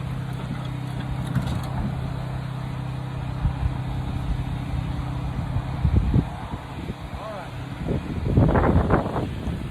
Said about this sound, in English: it was really windy and really hard to hold this in place